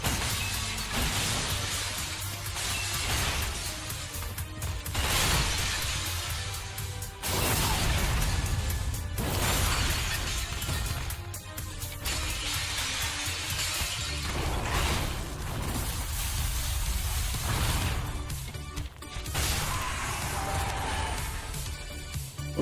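Glass shatters repeatedly in a dark fantasy action game as crashes and breaking impacts arrive in loud bursts every few seconds over a dense, continuous game soundscape.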